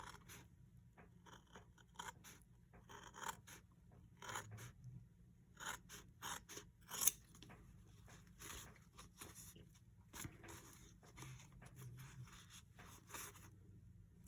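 Scissors snip through fabric close to machine stitching on an in-the-hoop embroidered Letter to Santa envelope, with faint irregular cuts and scraping rubs in a quiet room and no talking.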